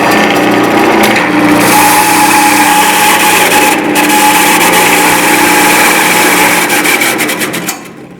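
A Jet JWL-1236 wood lathe running with a faulty speed-change pulley, a loud, steady motor whine and belt rumble that holds evenly, then starts winding down near the end, with no talk.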